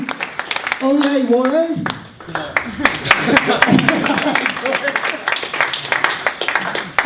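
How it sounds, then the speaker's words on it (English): An audience at a holiday tech pitch competition gives a round of applause for three judges. A voice speaks over the opening, then dense, close clapping continues to the end. "Another round of applause, please, for our 3 judges"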